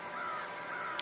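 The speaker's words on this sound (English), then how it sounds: "I hear some crows." Crows caw in a couple of drawn-out, fairly faint calls from some distance, heard alone against quiet outdoor background, with a tiny click near the end.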